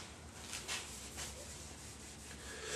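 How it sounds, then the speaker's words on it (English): A lint-free cotton cloth rubs wood stain into a cabinet door with firm pressure, making a soft, steady swishing scrub close by. "So when I'm applying stain, I'm also making sure that I'm rubbing it in"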